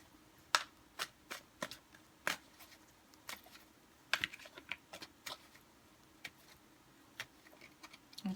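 Connolly Tarot cards being handled and picked from the deck: soft, irregular clicks and flicks of card stock, quiet and close, with no talking.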